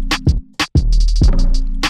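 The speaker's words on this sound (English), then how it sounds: "gonna add some in-between hi-hat roll" Programmed beat in Logic Pro with a fast 32nd-note hi-hat roll over booming kick and bass hits, loud and close, a quick rattling burst of hats between sparse drum hits.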